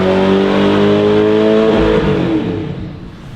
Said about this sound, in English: Massive rev limiter